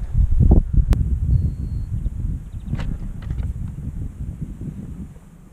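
Gusty wind on a hillside during slope soaring with a Libelle DLG glider buffets the microphone, rumbling loudly at first and easing off, with faint rustling and a few brief ticks.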